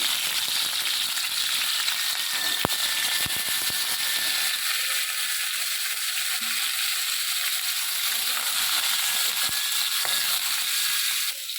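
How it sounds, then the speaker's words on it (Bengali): Crabs frying in hot oil in a pan while being stirred for a crab pickle: a constant dense sizzle and crackle throughout, with occasional scraping knocks from the stirring. "তেলটা গরম হয়ে গেছে আমি এবারে কাঁকড়াগুলো দিয়ে দেবো এর মধ্যে ভালো করে নেড়ে নেবো"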